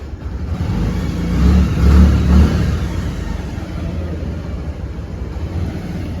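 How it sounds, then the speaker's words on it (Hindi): A loud motorcycle engine revs hard, peaking early then settling into a steady throaty drone nearby. "कोई बाइक ऐसे आवाज़ कैसे कर रही है इतनी तेज़ तेज़"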